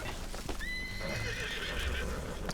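Horse in Red Dead Redemption 2 whinnies loudly with a long rising neigh while hoofbeats clop beneath it, set against continuous game ambience.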